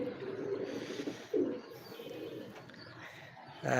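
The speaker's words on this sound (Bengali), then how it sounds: "কবুতরগুলো কতটা স্বাচ্ছন্দ্যভাবে ঘুরে বেড়াচ্ছে" Several domestic pigeons at a home loft coo in low, soft throaty calls, overlapping steadily, with a few brief chirps and a louder burst near the end.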